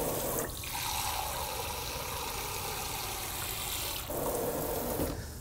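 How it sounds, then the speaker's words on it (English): Tap water runs into a cup in a kitchen as a steady rushing stream that changes pitch briefly partway through and near the end, with no talk over it. "I'm going to get a cup of water here."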